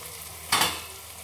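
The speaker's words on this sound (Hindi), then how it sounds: "बस इसे चला लेंगे, सारे स्पाइसेस सब अच्छे से मिक्स कर लेंगे।" A single quick stir of spices into boiled mashed potato in a hot pan for aloo bharta, a short sizzling scrape that rises sharply and fades within a second, close and alone.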